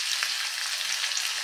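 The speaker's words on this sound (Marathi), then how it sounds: "आणि 1 मिनिटभर फक्त आपल्याला कांदा परतून घ्यायचा आहे." Finely chopped onion sautés in hot oil for kanda poha, giving a steady, even sizzle with faint stirring, close and alone throughout.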